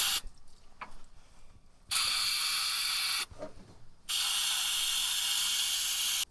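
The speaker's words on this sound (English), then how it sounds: "it's just lubricant. Not going to hurt to spray a bunch on there." Lubricant sprays onto a winch cable in two long, loud hissing bursts, separated by quieter mechanical clicking and ratcheting from the winch.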